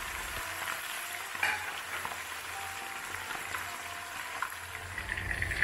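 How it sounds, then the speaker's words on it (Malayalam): Stuffed chicken fries in hot oil with a steady, soft sizzle and crackle throughout, a few louder pops standing out, and no voices. "ചിക്കനെ നമുക്ക് ചെറുതായിട്ടൊന്ന് ഫ്രൈ ചെയ്തിട്ട് എടുക്കാം"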